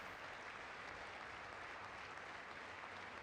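Steady applause from a crowd, a dense wash of clapping that holds evenly throughout, heard at a distance and fairly faint.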